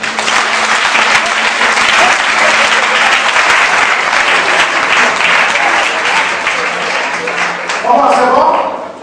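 Congregation at a night church vigil bursting into loud, sustained applause, dense rapid clapping close and continuous for nearly the whole stretch, with cheering voices and a brief voice near the end.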